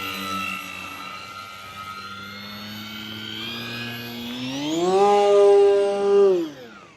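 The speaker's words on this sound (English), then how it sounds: "One thing you may have noticed about the Maule is it's loud." FMS Maule 1500mm RC model plane in flight at night, its electric motor and propeller giving a loud steady buzzing whine that climbs sharply in pitch as the throttle opens near the end, then eases off.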